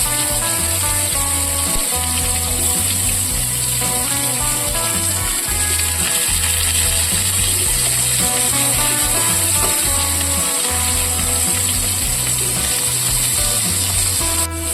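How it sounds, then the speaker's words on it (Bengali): Bitter gourd slices fry in hot oil with turmeric and a green chilli, giving a loud, steady, close sizzle that runs without a break, with a faint stirring rattle underneath. "এবার আমি উচ্ছেগুলো ভালো করে ভেজে নেব।"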